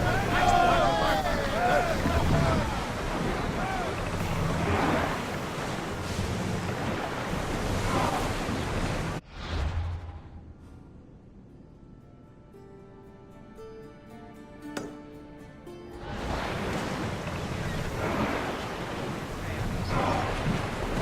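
A sailing ship moves across ocean waves in Assassin's Creed Odyssey, with continuous surf and wind rushing loudly, a brief quieter stretch with low musical tones in the middle, then the full wash of waves returning.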